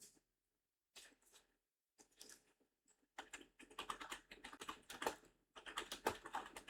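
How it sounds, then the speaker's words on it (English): Fingers tap on a computer keyboard in short bursts, sparse at first and then steady, rapid clicking, close and fairly quiet with no voices. "Because I'm typing."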